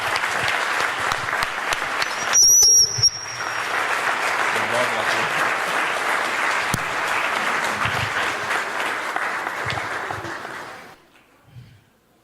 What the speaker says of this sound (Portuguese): Vamos dar uma salva de palmas para o nosso Deus.